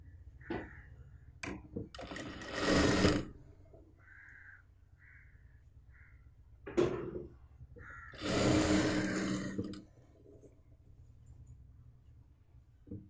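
Sewing machine stitching the lining and top fabric of a churidar made from an old dupatta, running in two loud bursts of a few seconds each with quieter mechanical ticks and pauses between.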